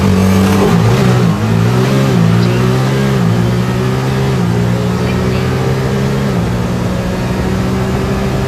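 A car engine accelerates hard under full throttle, a loud close droning roar whose pitch climbs and steps through gear changes across the whole stretch.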